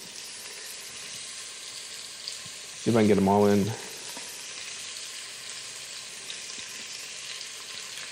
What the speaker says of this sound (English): So we're just going to brown the beef. You can hear it sizzle.